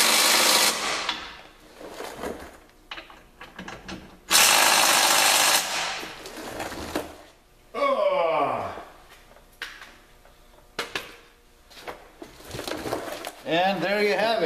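Rock slider bolts being tightened with a ratchet, giving short bursts of rapid clicking separated by pauses, with clanks and brief handling noises close by.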